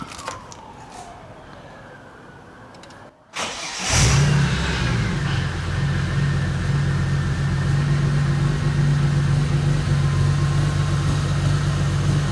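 A Ford BA XR6 turbo engine converted to run on LPG gas cranks briefly, then catches and settles into a loud, steady, slightly uneven idle with some spluttering, heard close up with no talking.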